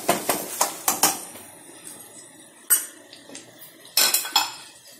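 Small onions being fried and sautéed in a pan for a poori chenna dish, heard as a run of sharp metallic scrapes and clinks of a spoon against the pan, spaced irregularly and close up, with no talking.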